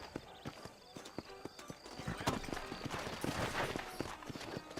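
Steady clip-clop of horse hooves on hard ground in the video game Red Dead Redemption, a continuous rhythmic trotting at moderate distance with faint background ambience.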